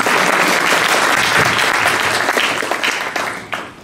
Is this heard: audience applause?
yes